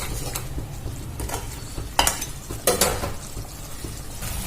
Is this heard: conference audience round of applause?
no